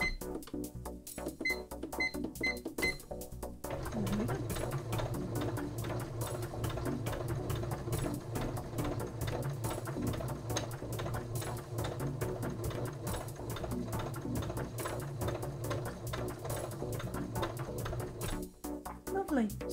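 A Uten 2685A computerised sewing machine stitches steadily and loudly for most of the stretch, its fast mechanical whir running continuously, with a few short electronic beeps near the start.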